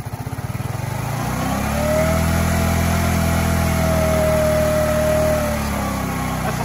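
Small engine running on starting fluid and Seafoam before a carburetor rebuild, sputtering unevenly at first, then settling into a loud, steady close-up drone with a whining tone that fades as the fluid runs out.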